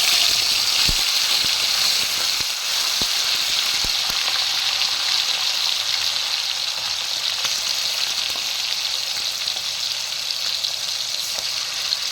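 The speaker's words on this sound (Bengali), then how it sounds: "এবার আমি এই মাংসগুলো তেলের মধ্যে অল্প অল্প করে দিয়ে দেব।" Chicken pieces for a dhaba-style chicken fry are dropped a few at a time into hot oil, making a loud, continuous sizzle with a few sharp clinks and pops near the start.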